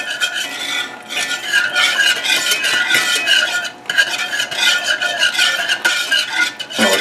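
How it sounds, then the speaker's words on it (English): A whisk scrapes and swishes steadily against a pan, mixing melted butter into a buffalo sauce, a close, continuous rhythmic rasping with a short break midway and no talk. "I'm just whisking it in."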